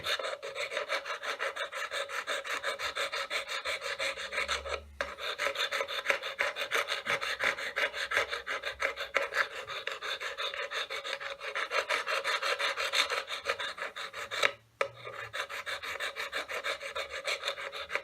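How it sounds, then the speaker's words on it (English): A hand file rasps back and forth over a carved wooden pendant in a steady, close rhythm of scraping strokes, with two brief pauses. "take the file and move around your pendant, really refining it all, getting rid of all the bits you don't want"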